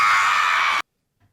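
An actress lets out a loud, sustained high-pitched scream that cuts off abruptly after less than a second, followed by silence.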